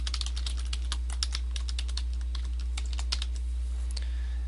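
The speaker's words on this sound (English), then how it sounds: "type in your website name" Keys clatter on a computer keyboard in a quick, irregular stream of close, soft clicks over a steady low electrical hum.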